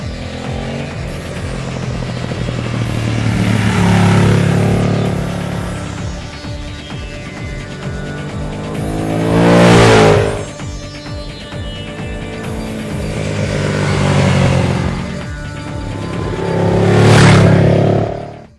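A Ducati Streetfighter S motorcycle is ridden hard, its engine swelling and fading through repeated rising revs and loud close passes over a constant roar, with no talking.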